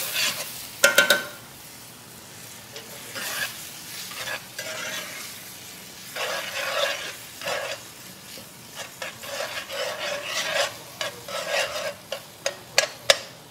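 Food is stirred around in a pan set on a grill at an outdoor cookout, with quiet intermittent scraping and rubbing strokes over a faint low sizzle, the strokes growing sharper and more frequent toward the end.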